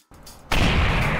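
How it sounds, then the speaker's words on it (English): A loud, sustained explosion blast from the Touhou Gensou Maroku W video game, erupting suddenly after a brief quiet lead-in and roaring on. "Explosion."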